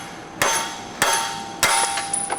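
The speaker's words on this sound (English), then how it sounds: "And then just take a hammer, or if you have a press or a tool like that," Three sharp metallic hammer strikes ring out at even intervals, each with a bright clanging decay, as studs are tapped out of a strut spacer held in a vise on a 2022 Chevy Trail Boss.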